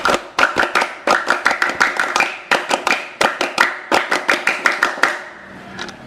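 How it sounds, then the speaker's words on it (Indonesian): Scout group members performing the tepuk pramuka, a crisp rhythmic pattern of hand claps repeated twice in quick, tightly timed bursts, loud and close with a short pause between the two rounds. "2 kali tepuk pramuka."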